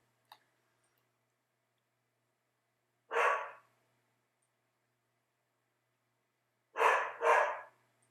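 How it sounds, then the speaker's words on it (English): A border collie barks, one sharp bark followed after a pause by a quick double bark, fairly close in an otherwise quiet space. "That would be my border collie."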